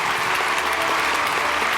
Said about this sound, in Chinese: 掌声欢迎，欢迎两位